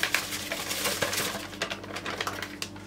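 Dry pudding mix is tipped into a metal pot, with light rattling taps and soft scraping in a short burst.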